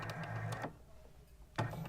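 A sewing machine stitches fabric for a Simona bow in two short bursts, a buzzing run at the start, a pause, then a quick back stitch at the end, fairly faint and close.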